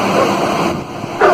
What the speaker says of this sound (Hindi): एक तो ये कुत्ते भौंक रहे